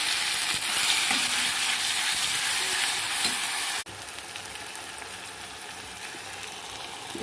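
Onions fry with a steady, loud hiss that drops abruptly as prepared spice paste goes into the pan, then a lower sizzle continues with faint stirring scrapes and no talk.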